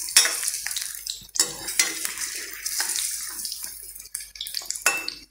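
Pakoras frying in hot oil in a pan while being flipped one by one, a loud close sizzle broken by sharp scrapes and clinks of a utensil against the pan, no talking.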